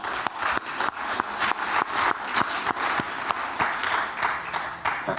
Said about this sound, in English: just give one more applause for Isabella